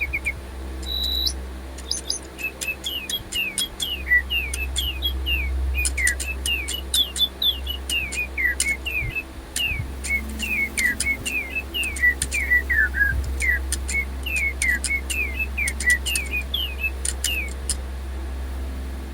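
Electronic toy songbirds, running on low batteries, chirp and whistle a busy run of short rising and falling tweets over a steady low hum, with the calls overlapping throughout.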